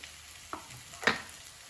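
Ground masala with a teaspoon of garam masala fries in a pan for capsicum rice bath: a soft, steady sizzle with two short scraping stirs, close by and quiet, no voices.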